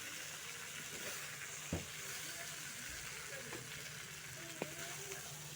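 Steady, quiet sizzling of vegetables frying in a pan for khichuri, a continuous hiss with a couple of faint clinks. No one speaks.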